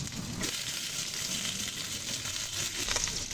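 Katla fish pieces fry in oil with browned onions and green chilies, a soft continuous sizzle with faint stirring scrapes, fairly quiet and close, with no talking.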